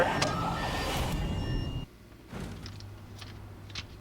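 Police sirens from the racing video game Need for Speed Most Wanted, a wailing tone that is loud at first, cuts off abruptly partway through and returns fainter over a low engine rumble.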